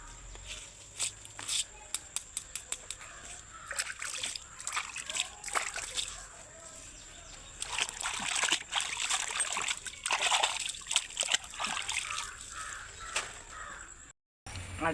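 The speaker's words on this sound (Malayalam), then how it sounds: "നല്ല വൃത്തിയിൽ കഴുകുക." A whole plant with its roots, flowers and leaves is washed in water, giving repeated sloshing and splashing. Crows caw in the background and someone talks over it.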